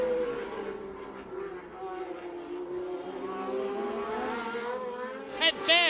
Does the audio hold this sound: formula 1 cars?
yes